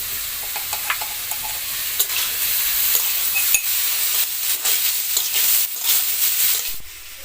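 Beet and carrot stirred and frying in a pan for a vegetable chop, a steady broadband sizzle with scraping stir strokes throughout, close and moderately loud, no voices.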